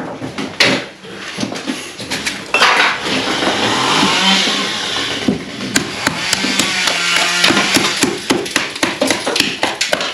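Hammering on a steel beam installation job, with repeated sharp metallic strikes in irregular bursts close by, mixed with clattering and shuffling of tools and materials.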